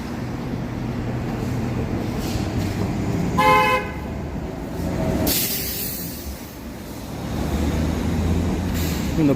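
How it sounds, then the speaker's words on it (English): A bus horn honks in short bursts over steady traffic rumble, followed by a hiss like air brakes, moderately close on a busy street in Vancouver in winter. "And the buses honk around here."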